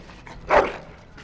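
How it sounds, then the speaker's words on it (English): A dog in the video game Dragon Age: Origins, at Castle Highever, gives a single short bark, fairly near and moderately loud, with faint game ambience before and after. "Bloody dog."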